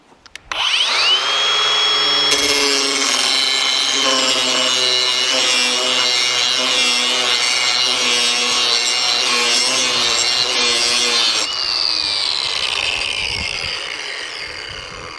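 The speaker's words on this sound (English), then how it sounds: "There's plenty of power for sharpening your lawnmower blades." A Ryobi ONE+ HP 18V brushless 4-1/2 in. angle grinder sharpening a lawnmower blade gives a harsh, high-pitched grinding whine that runs steadily for most of the clip, loud and close, then eases off toward the end.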